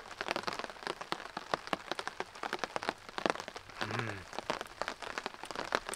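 Rain falling on a tarp at a bushcraft campsite during a storm, a dense, irregular patter of close drops tapping and crackling overhead without pause.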